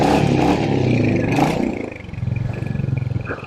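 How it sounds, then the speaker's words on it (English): A Royal Enfield Hunter 350 motorcycle of 20 horsepower rides close by, its engine roaring loudly under throttle, then easing into a rhythmic, thumping single-cylinder pulse. "Let's go take that hot rod for a ride"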